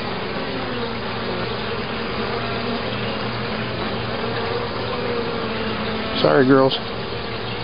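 Honeybees from a swarm hive humming in a steady, close drone during an inspection, with a brief spoken remark and a short knock near the end.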